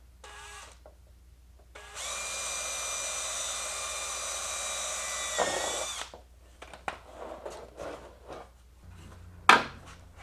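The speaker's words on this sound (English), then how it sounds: "I drill these holes." A power drill whines steadily for several seconds while boring mounting holes for a 1965 Mustang front spoiler, then winds down, followed by scattered clatter and handling noises close by.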